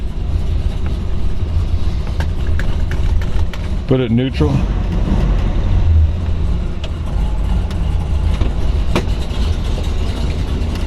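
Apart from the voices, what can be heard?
1970 Plymouth Road Runner Superbird 440 Six-Pack engine idling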